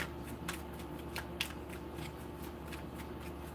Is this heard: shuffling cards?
yes